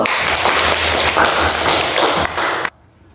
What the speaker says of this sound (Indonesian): beri aplaus dulu